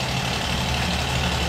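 A gold ore mill grinding rock in a small mining community runs steadily, a loud continuous low mechanical drone with a broadband roar, unbroken and close.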